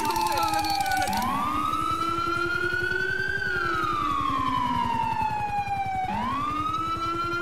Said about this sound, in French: Sirène. Ça pète les oreilles.